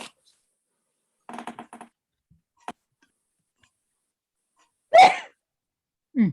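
A single sharp sneeze bursts out loudly after a few soft clicks and taps in an otherwise quiet room, followed by a brief sniff or breath at the end.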